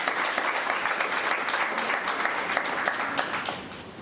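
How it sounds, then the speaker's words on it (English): A round of applause for students honored in a creative competition, with dense, steady clapping from a gathered audience that stays fairly even and close throughout before easing slightly at the end. "Let us give them a round of applause."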